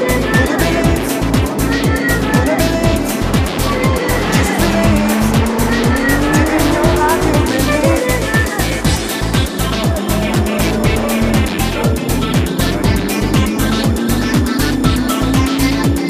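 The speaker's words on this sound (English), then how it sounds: "And then the cars are released onto the track." Ford GT40 race cars at a reunion at Road America, engines roaring loudly and continuously as they pull onto the track, with rapid rhythmic pulses and rising revs throughout.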